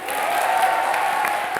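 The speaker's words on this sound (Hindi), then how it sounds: "जोरदार तालियां" Studio audience at a Hindi TV comedy show bursting into steady applause, a dense wash of clapping that holds at an even level throughout the short burst.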